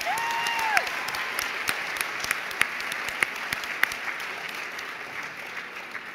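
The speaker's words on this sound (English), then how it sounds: "So why don't we give them a round of applause?" Audience applause at a photographers' event party during the WPPI 2012 convention, a dense wash of clapping from a sizable crowd with a few sharp individual claps standing out, steady and then tapering slightly.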